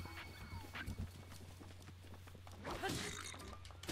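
Horse sounds in Zelda Breath of the Wild: faint clip-clop of hooves and a brief whinny amid game combat noise and background sounds, quiet and somewhat distant.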